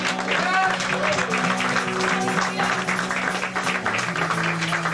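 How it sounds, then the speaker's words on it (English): A church congregation claps along during a worship service, steady broadband clapping mixed with singing or music and voices throughout. "Somebody clap your hands for the Lord."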